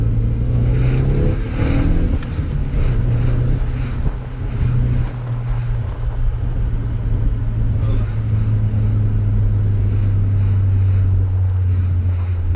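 An Audi's engine idles while warming up, a loud, steady low drone with slight shifts in pitch and some wind rumble, heard up close without talking.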